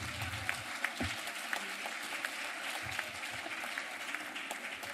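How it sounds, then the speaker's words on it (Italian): An audience of young women applauds during a talk, giving steady, moderately loud clapping that holds evenly throughout, with a few louder individual claps standing out and no speech over it. "Un applauso ragazze."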